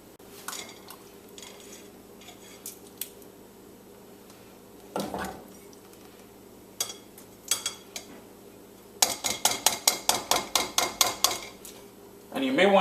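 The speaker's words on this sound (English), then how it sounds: "using a wooden spoon, I'm just going to work this and let all that nice pulp fall in there" A wooden spoon scrapes and presses cooked guava pulp through a metal strainer into a bowl, producing scattered clinks and knocks, then a quick rhythmic series of scraping strokes near the end.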